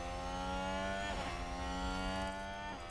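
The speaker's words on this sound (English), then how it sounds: "Come on, Alex, I want to hear that engine roar." A Formula One car engine in F1 Manager 2022 holds a steady high-pitched harmonic whine, with a brief shift in pitch partway through, and plays alone without talk.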